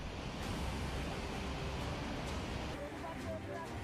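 Rushing floodwater of the swollen Yamuna river at Yamunotri, Uttarakhand, in a 2024 flood: a steady, loud broadband roar of churning water, continuous throughout, with a voice faintly present underneath.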